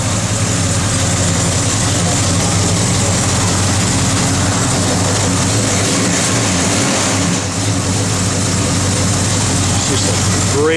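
A 1970 Chevrolet Chevelle SS engine idles steadily, a loud, constant low rumble that carries through the whole stretch with no revs or pauses.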